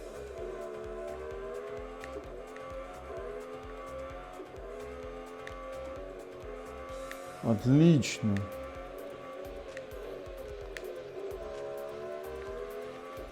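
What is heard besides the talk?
car racing sounds from Real Racing 3 video game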